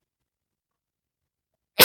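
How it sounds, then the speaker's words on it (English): After near silence, a single sudden sneeze bursts out right at the very end, loud and close. "I was really trying to end this before that sneeze came out"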